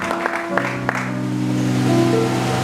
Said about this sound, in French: Acclame fortement, bien-aimé, au nom puissant de Jésus.